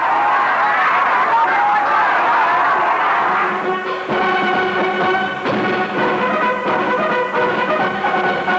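Dense, enthusiastic crowd pressing forward to see and applaud the visiting French president during a state visit to Cambodia, a loud continuous roar of cheering and clapping with a steady rhythmic clapping pattern emerging midway.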